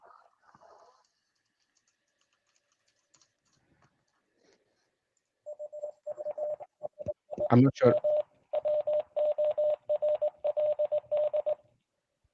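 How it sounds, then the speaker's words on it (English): Steady CW Morse code tones keyed out by a Boondock Echo device connected to a ham radio, a clear run of beeps at one pitch lasting several seconds, preceded by a brief spoken remark and a faint burst of noise. "So you can use the device to send Morse code with a connected radio to it"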